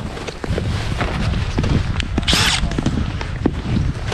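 Steady grinding drone of an ice auger boring through ice, with scraping and a brief hiss partway through, heard up close.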